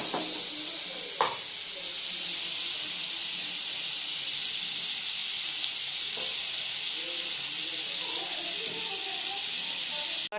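Butter melting in a hot wok gives a steady, close, even sizzle that fills the whole clip, with a couple of brief clinks of a utensil against the pan.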